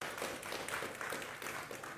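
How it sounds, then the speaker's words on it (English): Faint audience applause at a live-streamed event, a distant, thin patter of clapping from a modest crowd, brief and steady. "A round of applause for him, please."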